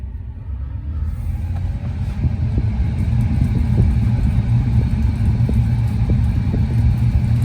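Inside a Tesla Model 3, the cabin ventilation fan is switched up to its top speed of 10, swelling within the first second into a loud, steady, rumbling rush of air that holds constant throughout.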